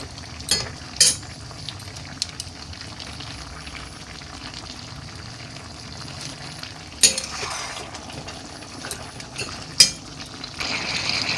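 Mixed vegetables are stirred in a pan as turmeric goes in, with a soft steady sizzle under sharp scattered clinks and scrapes of a utensil against the metal; no voices.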